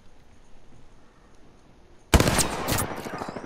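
Gunfire from Apex Legends erupts suddenly after a couple of seconds of near silence, a loud rapid burst of shots that continues to the end.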